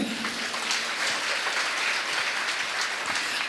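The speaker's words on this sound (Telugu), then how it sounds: "చప్పట్లు కొట్టండి" An audience at a Christmas church sermon claps hands in steady, dense applause that holds evenly from start to finish, with no voices over it.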